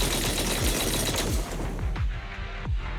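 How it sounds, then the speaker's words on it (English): Rapid, heavy booming heavy cannon shots in the video game Zenless Zone Zero fire in quick succession, loud and close, each blast with a short sweeping tail. "That was the sound of a heavy cannon?"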